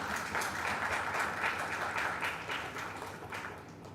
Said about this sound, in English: So why not a big round of applause for these two